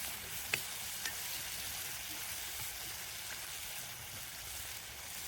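Prawns fry in a pan for a home-style prawn fry, giving a steady, close crackling sizzle throughout with a couple of sharp pops and faint stirring, no one speaking.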